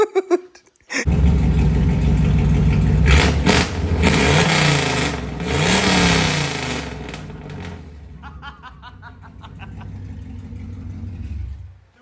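A V8 Camaro with a new Flowmaster exhaust revs loud and close, a deep rumbling roar that swells and falls over several seconds, then settles into a rough, burbling idle.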